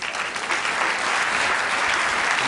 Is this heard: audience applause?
yes